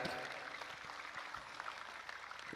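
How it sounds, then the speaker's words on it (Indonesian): Applause from a crowd at a religious gathering with sholawat singing, a continuous, fairly faint wash of clapping heard at a distance. "tepuk tangan untuk Az-Zahir."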